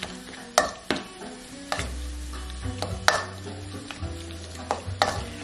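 Shrimp being mixed with a citrusy dill sauce in a bowl, with repeated close, wet clacks and scrapes of stirring in an irregular rhythm and a low hum underneath, no talking.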